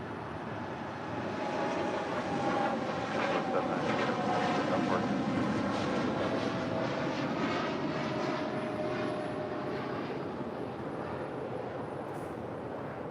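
Cargo Boeing 747 departing from LAX, a heavy, sustained jet engine roar that swells in the middle and eases slightly toward the end, with rising tonal whines over the broadband rumble.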